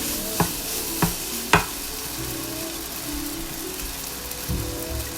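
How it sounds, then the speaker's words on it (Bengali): Pineapple fried rice with soy sauce fries in a pan, a steady close sizzle punctuated by three sharp utensil clacks early on and a softer knock near the end, with no voices. "সয়া সসটা দিয়ে আমি এটাকে ভাজতে থাকব"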